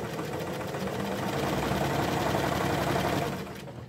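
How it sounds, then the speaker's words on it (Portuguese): Sewing machine running a continuous straight stitch through fabric for a tea towel, a steady close mechanical whir with rapid needle chatter that holds evenly for several seconds before winding down at the end. "Nós agora vamos pegar a costura reta e aqui onde tá o risco é o que nós vamos fazer a costura."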